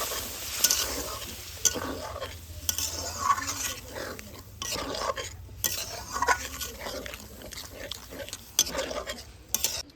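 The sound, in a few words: stirring vegetables with spices and boiled dal in a pot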